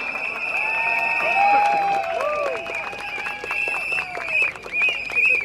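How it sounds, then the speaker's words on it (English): Large outdoor election rally crowd in Sembawang, Singapore, applauding and cheering steadily, with whistles and shouts rising over a dense wash of clapping that swells and dips throughout. "You deserve the loudest applause for yourself."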